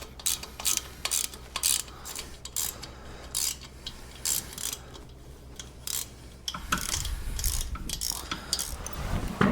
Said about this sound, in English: Now we can loosen up these 6. There's 6 bolts here that hold the bottom part of the valve cover in place.